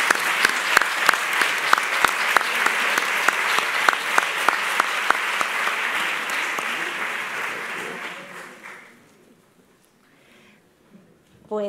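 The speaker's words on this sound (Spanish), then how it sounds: "os pido un fuerte aplauso para la biblioteca" An audience at a public library congress award ceremony applauds with a steady dense clapping and sharp individual claps standing out, fading away after about eight seconds, followed by quiet and a voice beginning to speak.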